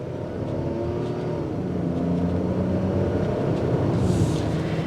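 A 2022 Ford Bronco Sport Big Bend with a 1.5-liter EcoBoost turbocharged engine accelerates, its engine note rising steadily in a continuous close, moderately loud drone with no talk.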